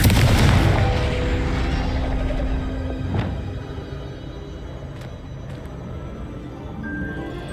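A fiery spell blast erupts in the Hogwarts Legacy game, a loud booming burst at the start that rumbles and fades into a lingering roar with a few later sharp impacts.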